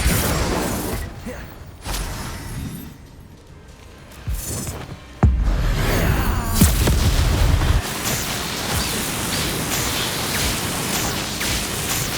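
Spell blasts from Confringo and Incendio in the Hogwarts Legacy video game, loud booming explosions and crackling fiery bursts over a dense, roaring game soundscape, with a heavy impact around the middle followed by sustained rumbling.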